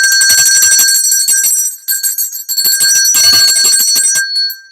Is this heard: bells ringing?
yes